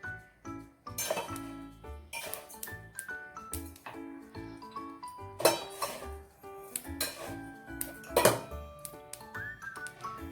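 Sesame seeds roasting in a pan for jaggery sesame laddus, with repeated metallic clinks and scrapes of a spoon against the pan in uneven bursts, close and moderately loud, with no talking.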